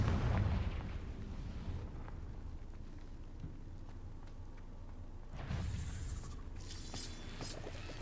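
A Confringo fire spell explodes in a Harry Potter video game with a heavy booming blast at the start, a rumbling tail, then a second crackling burst near the end.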